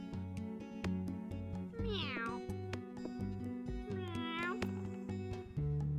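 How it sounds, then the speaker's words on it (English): Cartoonish cat meows from the video game Cat Cafe Manager, two rising-and-falling calls over a looping, steady game music track. "One more stray cat."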